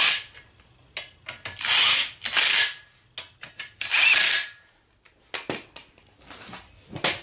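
A power tool, with ratcheting mechanical whirs, runs down two bolts on the rear axle of a Citroën Traction 11B, in loud separate bursts of a few seconds each with short clicks and pauses between them, close up.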